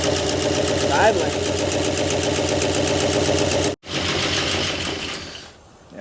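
The engine of a 1968 Oldsmobile, parked for 36 years, idles loudly with a steady, slightly rough rumble, briefly cutting out for a moment before running on.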